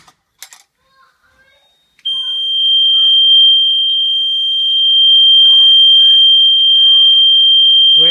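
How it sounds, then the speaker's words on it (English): A fire alarm sounds during a test of an old alarm system running on 12 volts, a loud steady electronic tone that starts abruptly after a few soft clicks and holds continuously, with faint warbling chirps underneath. "Let's just go ahead and pull the fire alarm."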